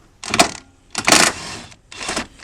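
A 15 mm socket wrench ratchets on the engine of a 2015 Buick Encore during a water pump replacement, three close bursts of rapid metallic clicking separated by short pauses.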